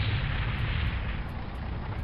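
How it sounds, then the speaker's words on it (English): A mech exploding in MechWarrior 2, its center torso going up in flames: a dense, sustained low roar of blast and rumble filling the whole stretch, loud and steady without voices. "Enemy mech destroyed. Like an enemy CT just going up in flames."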